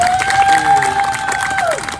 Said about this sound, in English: please give a big round of applause for all these outstanding young student leaders